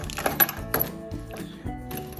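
Metal car keys for a Yakima Skybox 21 roof cargo box jingle and clink in a few bright bursts, close and fairly loud, with no talk.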